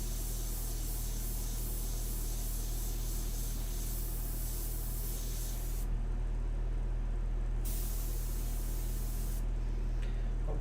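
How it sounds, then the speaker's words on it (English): An airbrush spraying India ink for a portrait painting gives a steady, close hiss that runs on unbroken, with short pauses in its brightest part and no talking. "I love that airbrush."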